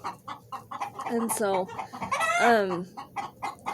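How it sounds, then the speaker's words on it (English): Chickens on a farm cluck and squawk busily nearby, with one rising, drawn-out call standing out, while a person briefly speaks over them. "chickens are going off"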